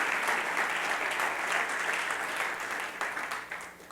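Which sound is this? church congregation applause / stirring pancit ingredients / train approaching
church congregation applause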